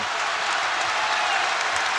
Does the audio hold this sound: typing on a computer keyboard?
no